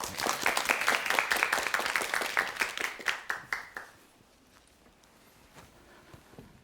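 A studio audience on a 2008 KBS Korean television storytelling program claps briskly. The applause is loud and even at first, thins into a few last claps, and stops after about four seconds, leaving quiet room tone.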